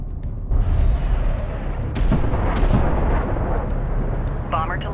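Heavy gunfire strikes a bomber in the real-time strategy game Homeworld: Deserts of Kharak, a loud continuous roar of rumbling impacts and blasts with sharper bursts, close and dense throughout.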